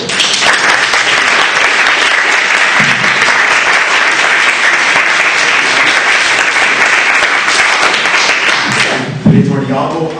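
Sustained, dense audience applause fills a morning session of an academic conference on Picene studies, loud and steady for about nine seconds before thinning out at the end.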